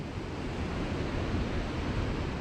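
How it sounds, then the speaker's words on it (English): Large ocean waves crash against rocks on a wild Scottish coast as the tide comes in, making a loud, steady roaring wash of surf with no voices. "These waves are so big."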